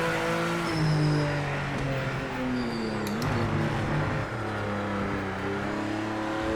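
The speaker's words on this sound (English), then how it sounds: "This sounds like a race car." A GT3 race car engine in the Project Motor Racing video game revs and shifts through gears, its rising and falling tones climbing with acceleration, joined by a brief tyre squeal midway.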